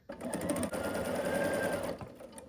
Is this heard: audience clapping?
no